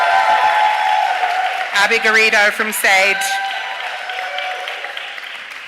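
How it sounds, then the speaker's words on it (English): Applause from an awards audience in a town hall, steady clapping heard beneath a presenter announcing finalist names, fading gradually toward the end. "I want round of applause for everyone"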